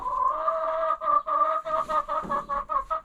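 Chickens clucking inside a backyard coop extension: steady, close, overlapping clucks and murmurs in quick rhythmic bursts, with no talk.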